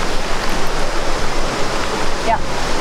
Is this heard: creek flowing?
yes